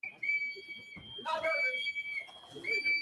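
Shrill, sustained whistles blown by protesters during arrests, several tones overlapping loudly with bursts of crowd voices and talk mixed underneath.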